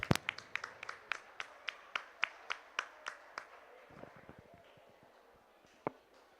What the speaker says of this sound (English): Let's give our young people a nice round of applause out here.